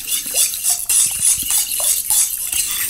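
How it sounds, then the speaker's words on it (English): A spoon scrapes and clinks rhythmically against a bowl while sugar is stirred into liquid for a slightly sweet buttery white bread dough, with repeated short strokes close by. "I will now stir in that sugar"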